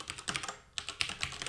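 Rapid clicking keystrokes on a computer keyboard while code is typed, an uneven patter of close, moderately loud key taps with a brief pause midway.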